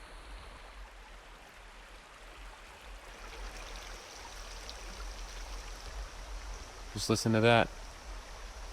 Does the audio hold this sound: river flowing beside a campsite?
yes